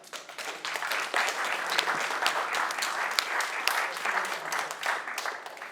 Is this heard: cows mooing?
no